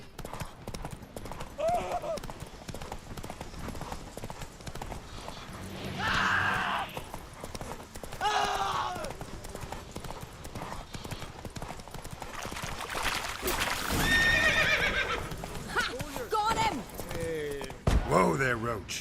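Hoofbeats from Roach, the horse in The Witcher 3, clip-clop at a gallop with a brief neigh, mixed with game music and effects while someone talks over it.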